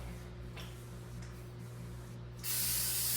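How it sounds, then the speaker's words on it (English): Cooking spray hisses onto a pan for garlic and Parmesan focaccia, a loud, steady burst near the end after a quiet kitchen hum. "you have to spray it with cooking spray"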